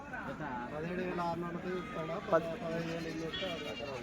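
Goats bleat at a weekly sheep and goat market in Kadiri, their calls rising over steady crowd chatter and nearby voices, with a brief louder thump midway.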